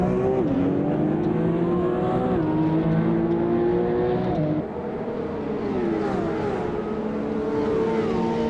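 Loud, constant engine whine from a race car in a racing video game as it runs down the main straight, pitch stepping up through gear changes with a brief dip midway.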